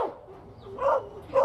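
Dogs held for slaughter outside shops at a dog market give two short, sharp barks close by, separated by a brief lull, with no talking over them.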